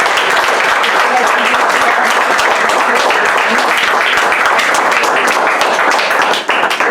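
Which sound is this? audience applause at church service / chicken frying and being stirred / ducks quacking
audience applause at church service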